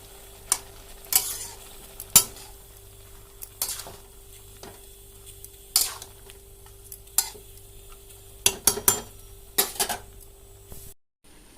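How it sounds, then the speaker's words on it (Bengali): A pot is stirred after turmeric and salt go in. Scattered metallic scrapes and clanks of a spoon against the cookware sound over a quiet background with faint sizzling, and the clip goes briefly silent near the end. "এখন দিচ্ছি হলুদ দিয়ে দিচ্ছি পরিমাণ মতন লবণ এখন এটাকে ভালো চেলো ভালো করে নাড়াচাড়া করে ঢেকে রাখবো"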